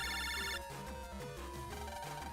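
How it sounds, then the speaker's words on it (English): An electronic telephone ringtone chirps in a repeating tonal pattern, fairly faint and steady, with no voices over it. "you got a phone call"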